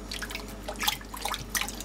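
Water poured onto a disposable nappy, a soft wet trickle and dripping against steady background hiss, fairly quiet and with no talking.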